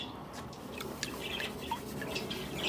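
Birds chirp outdoors beside a creek during gold prospecting with a sluice, scattered thin tweets over steady trickling water and low background rumble.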